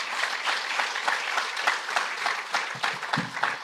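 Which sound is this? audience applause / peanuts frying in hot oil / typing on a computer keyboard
audience applause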